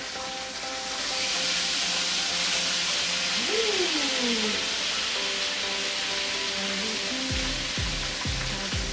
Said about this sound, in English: Now we're going to deglaze the pan with copper red sauvignon.